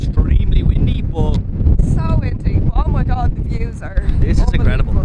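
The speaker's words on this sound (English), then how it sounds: "Don't know how good the audio is going to be because it is extremely windy" Heavy wind buffets the microphone with a constant low roar in the Burren, West of Ireland, while a person talks over it.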